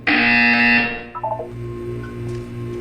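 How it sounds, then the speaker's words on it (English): A loud, sustained electronic buzzer sounds inside a Portal 2 test chamber, blaring steadily for about a second before cutting off, followed by a low mechanical hum. "You will hear a buzzer."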